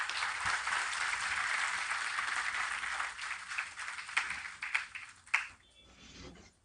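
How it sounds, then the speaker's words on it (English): Steady applause from an audience at a Delhi High Court inauguration ceremony fills most of the clip, then thins into scattered claps and a few louder individual ones before fading out. "I request all of you to give a thunderous applause to welcome Lordship."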